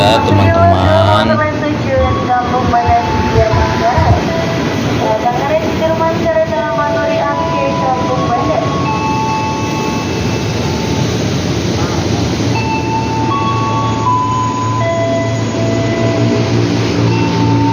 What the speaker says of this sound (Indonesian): Keretanya udah datang ya teman-teman.